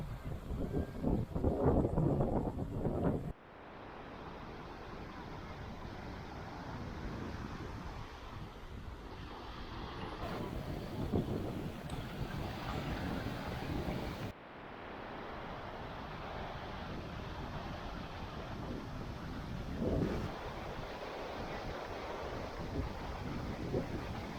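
Waves washing ashore with wind at Driftwood Beach, a steady broadband roar buffeting the microphone throughout, with brief cuts in the sound.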